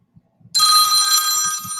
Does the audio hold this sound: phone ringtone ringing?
yes